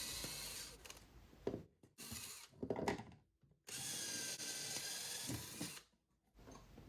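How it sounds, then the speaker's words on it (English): A power drill bores out aluminium pot rivets on a motorcycle silencer, a close, whining burst repeated in several separate runs with short pauses between them, the last two bites longer and steadier. "The pot rivets drill out easily because they're made of aluminium."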